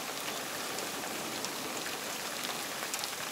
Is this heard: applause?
no